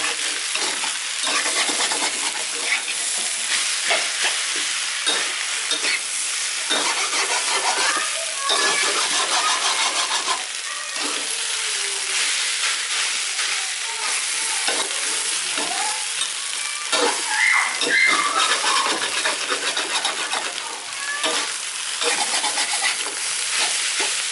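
Traditional Thai fried rice with red sauce sizzles and crackles in a hot wok, with continuous frying hiss and repeated scraping stirs of the rice.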